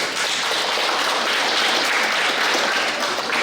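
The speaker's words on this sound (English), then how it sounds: "Both boys and girls, give yourselves a lovely round of applause." Primary school students at a class graduation ceremony give a round of applause, a dense, even and fairly loud clapping from a large group that holds steady throughout.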